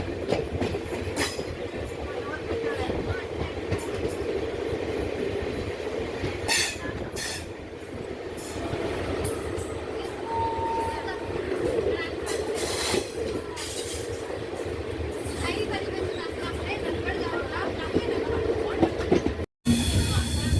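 The Parasuram Express rumbles steadily along the rails nearby on a curve before Kollam Junction, wheels clattering and occasionally squealing, loud and continuous throughout.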